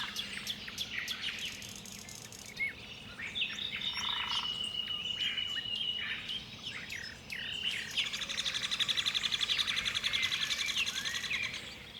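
Forest ambience full of chirping and trilling birds, several overlapping calls near and far over a soft constant hiss, with frog-like croaks and insect buzz blended in; leaf rustle is not distinct.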